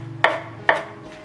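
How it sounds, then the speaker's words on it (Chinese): A knife chops garlic and mint leaves on a cutting board, giving two sharp, close knocks about half a second apart, then a fainter third one. "趁这个时候，我们来剁一些蒜蓉。"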